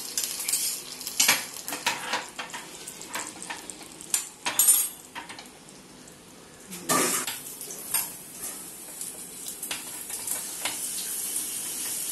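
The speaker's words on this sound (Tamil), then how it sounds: "நம்ம இதில் வந்து திரும்ப திராட்சை வறுத்துக்கலாம்" Raisins roasting in a pan in a home kitchen, with an irregular series of spoon scrapes and metallic clinks over a light sizzle, close by and intermittent, with quieter stretches between the stirs.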